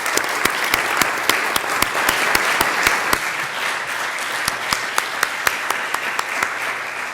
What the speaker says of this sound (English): please give everybody a round of applause.